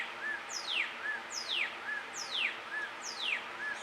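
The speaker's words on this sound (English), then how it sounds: "I gotta find out what that bird is called. It's here a lot." A bird calls outdoors in a repeating pattern, a short soft note followed by a descending whistled sweep, repeated four times at an even pace, moderately distant and alone without voices.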